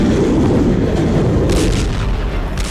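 Continuous heavy rumbling booms from bombing in Beirut, a dense, loud low roar of explosions with a sharper burst near the end, no talk.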